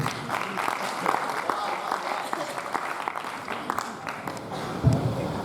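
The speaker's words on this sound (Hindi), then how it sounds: "जोरदार तालियां" Sustained audience applause at a Hindi kavi sammelan poetry recital, a steady dense patter of many hands clapping with a brief louder burst near the end.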